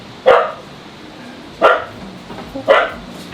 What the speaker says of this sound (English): Excuse the dog barking there.